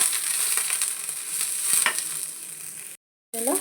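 Spices and a little mint fry in a pan for a village-style avarekalu sambar, a steady close sizzle with light stirring scrapes, briefly cut to silence before resuming.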